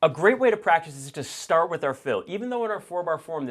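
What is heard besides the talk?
No everyday noise stands out behind the speech.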